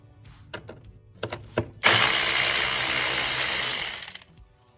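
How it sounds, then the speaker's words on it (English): A few sharp mechanical clicks, then a loud, steady whirring ratchet spinning continuously for a couple of seconds before stopping, while bolts are removed on a BMW 535i. "I'm gonna go ahead and remove all of these bolts here, right around"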